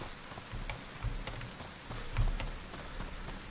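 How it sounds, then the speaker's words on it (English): Steady rain patters down in a DayZ game world on the Livonia map, a soft continuous hiss of drops hitting surfaces with a couple of slightly louder low thumps, no voices. "Even this rain looks better when you get the right, when you get the splash"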